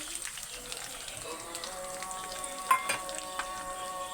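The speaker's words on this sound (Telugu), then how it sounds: "ఎగ్స్ ఒక గిన్నెలో కొట్టేసి వేసేస్తున్నానండి" Beaten eggs for egg fried rice frying in a pan make a soft, steady sizzle with a brief louder crackle near the middle, heard close and without talk.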